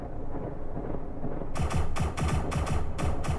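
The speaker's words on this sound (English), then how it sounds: "you missed every one of those shots" Gunshots in the video game SCP Secret Laboratory: after a quiet start, a rapid burst of sharp automatic fire, a dozen or so close, loud cracks in quick uneven rhythm.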